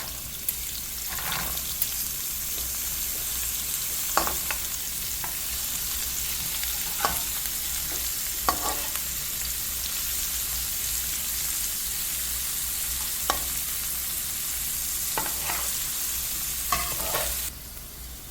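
Dried chilies, garlic and carrots sauté in a pan with a steady, close sizzle. Spoon scrapes and stirring clicks come at irregular intervals, and no one talks.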